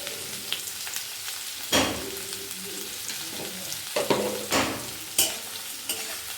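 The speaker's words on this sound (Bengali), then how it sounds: "পেঁয়াজের উপরে একটু নুন ছিটিয়ে দেবো, যাতে তাড়াতাড়ি ভালো করে ভাজা হয়ে যায়।" Onions sprinkled with salt frying in a pan, a continuous close sizzle broken by several sharp scraping stirs of the spatula, with no talk.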